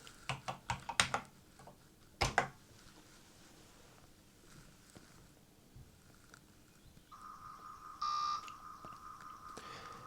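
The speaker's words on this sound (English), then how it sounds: "we will type run and press return" Keys clatter on a Commodore 64 keyboard in a quick burst, then a single firm press of the return key, followed by quiet hum and a steady electronic tone near the end.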